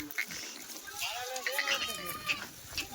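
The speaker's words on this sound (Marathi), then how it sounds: "ही शेळी बघा" A Kathiawari goat bleats a few times, wavering and fairly faint, while people talk nearby.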